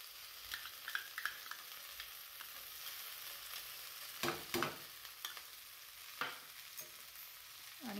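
A spoon stirs fried okra (bhindi) seasoned with salt into a mixture in a frying pan, giving faint scraping and shuffling strokes over a soft continuous sizzle, with a few louder stirs in the middle.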